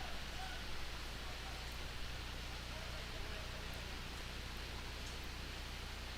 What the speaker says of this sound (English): Playing through the heavy rain.